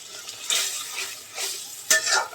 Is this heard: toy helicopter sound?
no